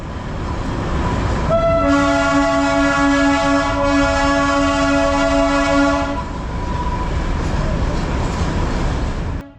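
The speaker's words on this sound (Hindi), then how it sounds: "ट्रेन यहाँ तक 30 किलोमीटर की यात्रा कर चुकी है और बाज़ारों में से होकर निकल रही है।" The Darjeeling toy train rolls through a busy bazaar, sounding a long, loud, steady horn for several seconds over constant rumble and crowd noise. Voices are heard in the background.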